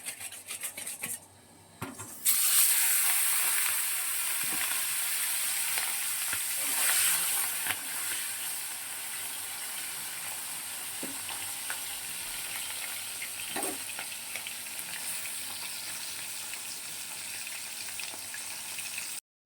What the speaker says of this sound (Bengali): মাছটা খুব কম করে ভাজবে।